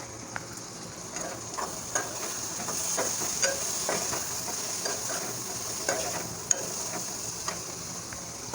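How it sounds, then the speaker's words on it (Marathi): Cluster beans (gavar) fry in oil in a pan, a steady close sizzle with scattered scraping clicks from stirring throughout, no voices. "एक पाच ते दहा मिनटं गवार चांगली फ्राय होऊ देते"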